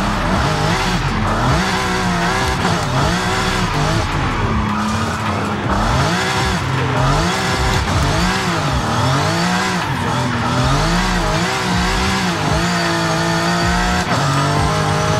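BMW M4 in Forza Horizon 5 on drift tyres, engine revving and wailing up and down while the tyres squeal through long continuous slides, loud and close throughout.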